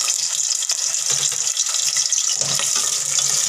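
Pieces of taro root (arvi) drop into hot oil and fry with a loud, continuous close-up hiss and crackle that holds steady throughout.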